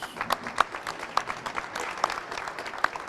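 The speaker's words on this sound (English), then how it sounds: "let's give Jesus a hand clap of praise" Sparse, scattered hand claps from a church-style audience at a parish sheriff and city marshal candidate forum, a handful of people clapping unevenly in a small room, fairly soft with no talk over it.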